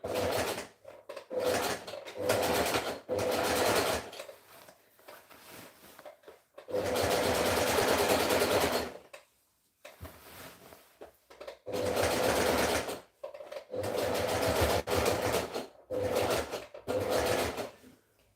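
A sewing machine runs a zigzag stitch in bursts of steady mechanical whirring, close and loud, with brief pauses between runs.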